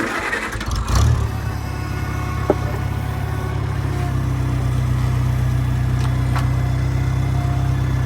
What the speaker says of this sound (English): Give it a bit of throttle and watch and learn.